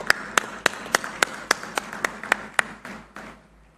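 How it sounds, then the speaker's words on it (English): Rhythmic clapping in unison at the inauguration ceremony of a Google AI data centre in Visakhapatnam: about eleven sharp, evenly spaced claps that then soften and fade out. "Let's make sure our guests behind us are able to hear your applause."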